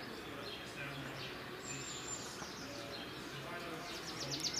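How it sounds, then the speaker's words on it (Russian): Birds chirp faintly in the distance over a steady outdoor hum in the city of Uzhhorod, with a few brief high calls standing out near the end. "Птицы поют."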